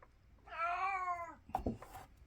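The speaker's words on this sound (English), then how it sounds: "That is my cat." A cat lets out one clear, drawn-out meow close by, with a few soft shuffling bumps after it.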